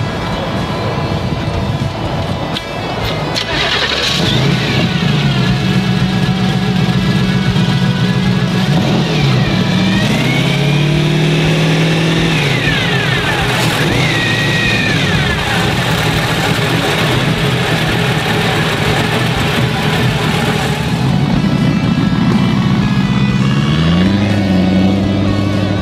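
Supercharged Donovan 410 engine from an Outlaw sprint car fires up at a car show, then runs loud and close with repeated throttle blips and revs rising and falling over a steady rumbling idle.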